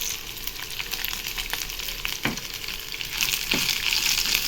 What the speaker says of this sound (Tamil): தனியா இது எண்ணெயில் நல்லா ஃப்ரை பண்ணிடலாம்